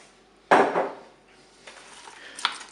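Carrots, leeks and a bouquet garni dropped into a Cookeo cooker pot: a sharp clattering knock against the bowl, then softer scraping and a small clink, close and alone.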